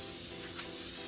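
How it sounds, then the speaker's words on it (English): Spray paint is applied to a galvanized metal pot to give it a vintage farmhouse look, heard as a quiet, steady aerosol hiss lasting about a second with no talking. "I'm just gonna spray paint it."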